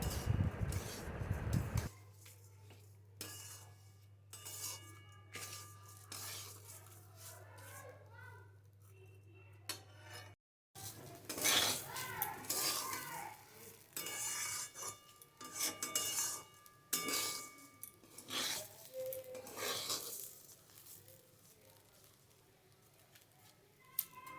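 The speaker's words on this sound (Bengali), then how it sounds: "এখন আমি এটা সাত থেকে আট মিনিটের জন্য বেশ ভালো করে এভাবে নাড়াচাড়া করব। আর দেখতে হবে চালটা যাতে বেশ ভালো করে ভাজা ভাজা হয়ে যায়" Rice for Bengali basanti pulao is stirred as it fries in a pan, with repeated scraping and rustling strokes of a spoon against the metal, close and fairly quiet, and a voice at times.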